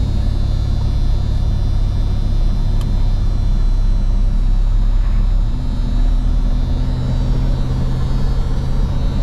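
A 1972 Chevelle drives in first gear, its engine giving a loud, continuous low rumble heard from inside, steady throughout with a slight rise in pitch partway through.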